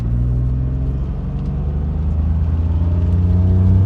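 A turbocharged BMW E46 drives down a road, its engine a steady, loud low rumble and whir that rises slightly toward the end, with no talking.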